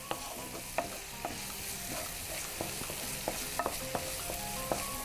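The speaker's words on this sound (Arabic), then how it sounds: "نقلب بقى تقليبه حلوه كده." Food sizzling steadily in a hot pan as a spoon stirs it, with scattered light scraping clicks over a constant close frying hiss and no talk.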